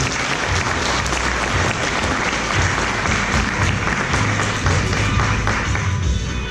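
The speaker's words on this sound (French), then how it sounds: "On l'applaudit bien fort avant d'arriver." Audience at a Christmas-party magic show applauding loudly, a dense continuous wash of clapping that stays steady for several seconds.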